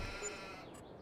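Sheep in Farming Simulator 22 bleat faintly within a quiet, steady farm ambience, one soft brief call near the end.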